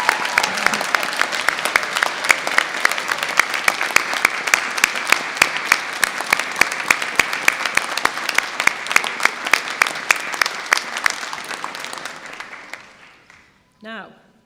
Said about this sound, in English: Please can I ask you to join me in giving them all a round of applause.